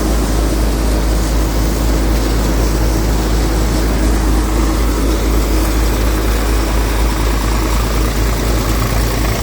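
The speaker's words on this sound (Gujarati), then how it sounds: "મગફળી જે 37 હોય છે ગાંધીગીરમાં, એમાં આપણું થ્રેસર ચાલુ છે અત્યારે" An Eicher tractor runs at about 1200 RPM, powering a groundnut thresher in a farm field, a loud, close, unbroken broadband roar with a heavy low-end engine drone throughout.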